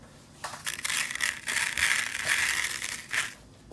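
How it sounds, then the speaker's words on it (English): Basmati rice poured into a homemade snare drum box makes a steady, close granular rustle and hiss lasting about three seconds, swelling and fading in waves, with no voices. "again we're gonna refill it with some rice"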